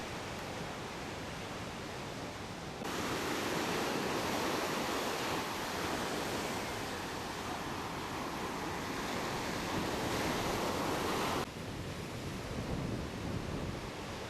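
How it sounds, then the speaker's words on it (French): Ocean waves at Sunset Beach, Hawaii, beside Banzai Pipeline, rushing as a steady broad wash of surf, swelling louder through the middle and easing slightly at the end, with no voices. "Les vagues commencent à bien se former"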